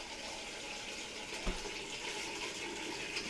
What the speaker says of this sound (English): Put some water in it.